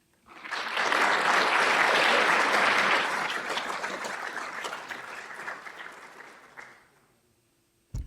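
An audience at a public talk on democracy claps to welcome a speaker, a full burst of applause that swells quickly, holds steady for a few seconds, then thins out and fades to near silence.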